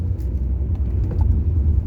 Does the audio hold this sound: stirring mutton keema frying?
no